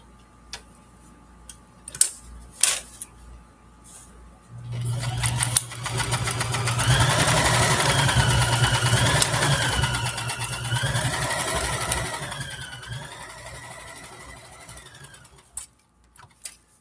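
A sewing machine runs a steady line of stay stitching on scrubs fabric, a continuous mechanical whir lasting several seconds at moderate loudness, with brief clicks and handling sounds before and after.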